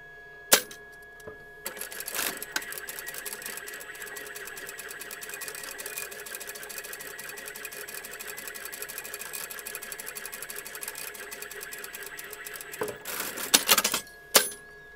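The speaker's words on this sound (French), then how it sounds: "vous allez ensuite coudre cette extrémité comme ceci" A sewing machine stitches the edge of fabric for a stuffed Easter goose, a loud, steady close whirring run of about eleven seconds framed by a few sharp clicks and clunks at start and finish.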